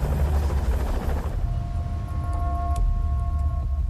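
A helicopter on an aircraft carrier evacuates casualties, a loud continuous rotor and engine roar with a throbbing low rumble and a steady whine.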